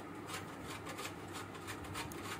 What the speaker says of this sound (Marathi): आता मी इथे थोडेसे सुके खोबरे किसून घेत आहे।